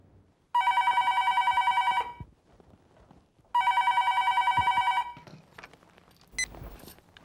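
Telephone bell ringing in a Hindi TV serial home scene, two loud electronic ring bursts of about one and a half seconds each, separated by a pause, followed by faint rustling and a short click.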